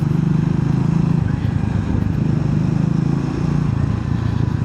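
Triumph Speed 400 motorcycle engine revving, a loud, steady, close low-pitched drone with a rapid pulsing throb that holds without pause.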